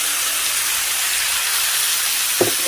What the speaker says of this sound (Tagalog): Tapos ilagay na natin ang ating upo